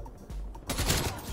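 A brief, dense burst of gunfire from a burst-fire gun in Call of Duty: Black Ops Cold War, loud and close, cutting in after a short stretch of quieter in-game background noise.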